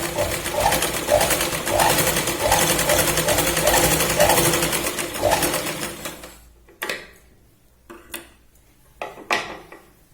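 Sewing machine stitching a Punjabi dress made from a sari, running steadily and loudly for about six seconds, then stopping, followed by a few brief handling clicks and knocks.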